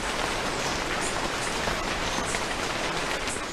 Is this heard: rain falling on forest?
yes